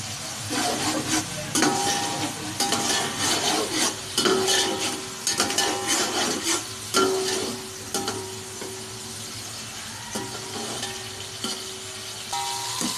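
Onions frying in a pan for chicken biryani, a steady sizzle with repeated scraping and clinking of a spoon stirring against the metal pan, close and continuous with no talking.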